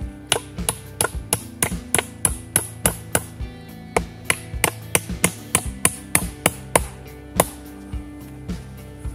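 Nails hammered into wood while building a dugout shelter in a forest, a steady run of sharp, close strikes in quick rhythm with brief pauses, loud and alone without talk.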